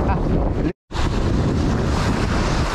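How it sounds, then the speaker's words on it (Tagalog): Loud, roaring wind blasting across the microphone with a brief dropout, over the wash of open water. "Hindi ko alam, mahangin."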